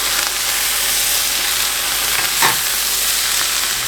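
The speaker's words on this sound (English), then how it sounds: "we're going to go ahead and add back in our veggies, so our onions and our mushrooms, along with our drained bacon, just to get everything heated back together" Onions, mushrooms and drained bacon sizzle loudly in a hot pan, a steady frying hiss close up with a brief scrape of stirring partway through.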